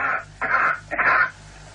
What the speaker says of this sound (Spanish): That's coughing on Mars.